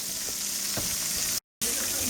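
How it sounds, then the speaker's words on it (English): Steady, loud sizzling of frog legs frying in hot oil, with a brief clatter partway through and a short cut to silence. "So there's 3 sets of frog legs. We frying up."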